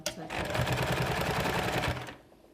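Sewing machine stitching trouser fabric hums in a fast, steady, even rattle for about two seconds before cutting off, fairly loud and close.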